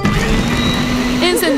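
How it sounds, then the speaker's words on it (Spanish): A blender whirs loudly while mixing an egg shake, a steady motor drone filling the short stretch, with a voice speaking over it near the end. "Encendemos la licuadora."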